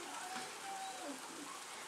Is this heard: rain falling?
yes